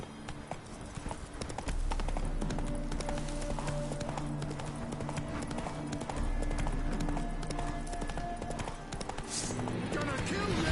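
Geralt's horse Roach galloping in The Witcher 3, a fast, steady drum of hooves close by with continuous game ambience and a voice speaking over it.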